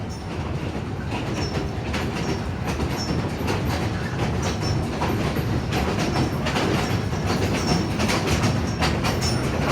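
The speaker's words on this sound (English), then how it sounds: "The steam locomotive pulling our train today is number 16, built in 1916 by Baldwin Locomotive Works in Philadelphia, Pennsylvania." East Broad Top steam train hauled by 1916 Baldwin locomotive No. 16, heard as a steady, loud, continuous rumble with rhythmic clickety-clack of wheels over rail joints throughout.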